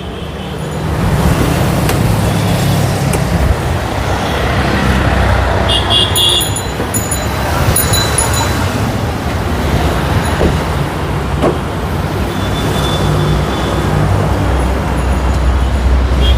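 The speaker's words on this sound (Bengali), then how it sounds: "গাড়ির ইঞ্জিনটা দেন একবার মাখন" A used Toyota Harrier has its engine running, a steady low drone heard close throughout amid surrounding street traffic noise, with a few brief higher tones and clicks on top.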